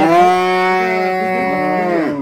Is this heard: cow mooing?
yes